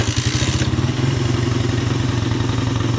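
A Suzuki Satria FU 150 motorcycle engine runs loud and close with a steady, rapid thumping idle, and a brief hissing rush early on, while a fault keeps it from revving up when the throttle is opened.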